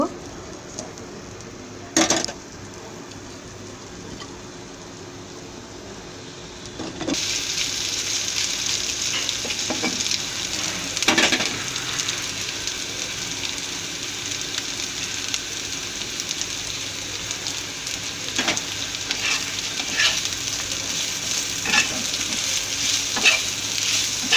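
Onions fry in a pan for spicy chicken boti kebab, a steady close sizzle that swells loud after a quiet start, broken by occasional spatula scrapes, with a voice talking over it.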